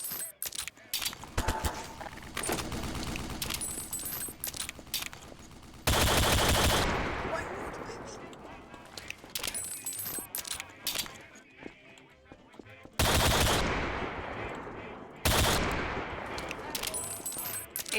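Loud video game gunfire in Cartoon Cat Survival, with rapid bursts of shots and sustained automatic fire, repeated several times, heard with people talking and reacting over it.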